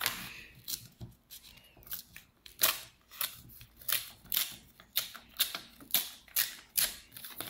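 Scissors cut through a folded sheet of paper in quick, even snips, a steady run of crisp close clicks and slices with no voices.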